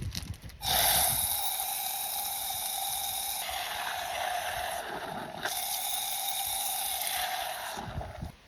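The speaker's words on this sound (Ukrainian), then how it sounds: "А презерватив дорогенький ми зараз наберемо водички і зробимо з нього лінзу." Water runs steadily from a tap into a condom, filling it for several seconds, close and fairly quiet, with brief handling noises at the start and near the end.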